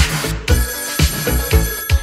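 A telephone ringing effect in a 1984 French pop song, the loud bell trilling in repeated bursts about every half second with pulsing low beats underneath, no voices.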